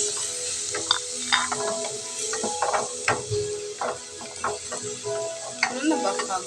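Garlic hits a hot pan and sizzles steadily, with frequent scraping, stirring clicks and utensil taps against the pan close by. Light talk sits in the background.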